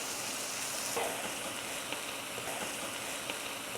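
Smashed kababs fry in a pan with a steady, even sizzle that stays at moderate loudness throughout, close by, with a few faint pops and no talking.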